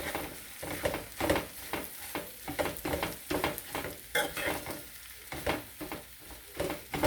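Crumbs being stirred through oil in a pan, a steady scraping, shuffling rhythm with soft sizzling underneath, close and fairly loud throughout.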